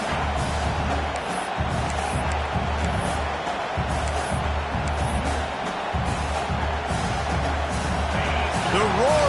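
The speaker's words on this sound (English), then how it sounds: "The roar of the crowd trying to fuel this defense to keep them pinned in their own end." Crowd noise from a college football video game (NCAA 26, a game against Oregon) forms a dense, steady roar with rhythmic pulses of chanting throughout, loud and continuous, with no speech on top.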